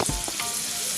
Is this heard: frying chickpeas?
yes